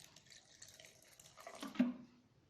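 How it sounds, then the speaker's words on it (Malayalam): Water poured from a small vessel into a mixer grinder jar holding coconut, turmeric powder and fennel seeds for a Thalassery coconut rice lunch, a brief soft splash and trickle building near the end. "കുറച്ച് വെള്ളം ഒഴിച്ചു കൊടുക്കാം."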